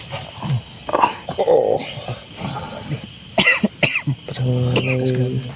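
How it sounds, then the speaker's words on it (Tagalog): An elderly man coughs in a few rough bursts near the start. Talking and other voices follow, with a quiet steady hiss in the background. "Lumabas yung ubo ko, Lo."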